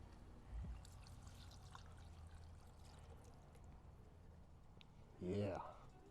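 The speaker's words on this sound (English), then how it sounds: "pour this over our meat." Bone broth mixed with flour and Worcestershire sauce is poured over beef in a Dutch oven for stroganoff, giving a brief close splash and trickle near the end against a quiet kitchen background.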